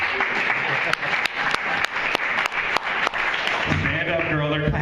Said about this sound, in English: Stand up, girl, they're clapping for you.